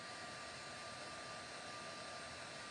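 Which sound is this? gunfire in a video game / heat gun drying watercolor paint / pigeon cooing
heat gun drying watercolor paint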